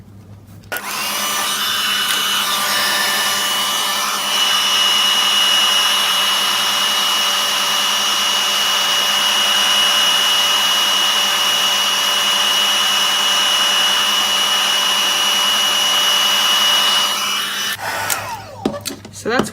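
A heat tool melts embossing powder on a handmade craft background, giving a loud, continuous blowing whir that starts abruptly, holds steady for about sixteen seconds, then cuts off.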